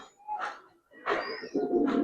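A pair of Giribaz pigeons coo in a few short, soft bursts close by, the calls separated by brief pauses.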